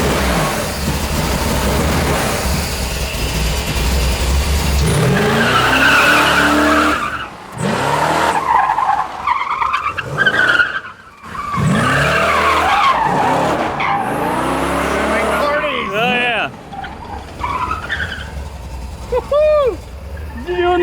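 A Ford Bronco does a burnout in 4-wheel drive at a burnout competition: tires squeal and skid loudly and continuously for about twenty seconds over a roaring engine, with crowd noise and shouts mixed in.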